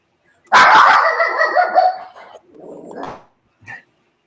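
A young puppy lets out a loud, drawn-out bark-yelp close by, then a softer whimpering yip and one short final squeak, with near silence before and between.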